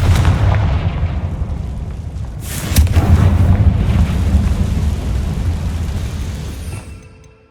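A Confringo spell explosion in Hogwarts Legacy hits as one loud, sharp blast midway. It sits over a heavy low rumble that carries on for several seconds before fading out near the end.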